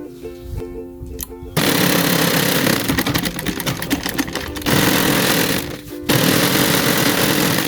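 A sewing machine runs fast, steady stitches along the front of a basic school uniform skirt. The motor comes in loud and close in several long continuous bursts, with a couple of short pauses between the runs.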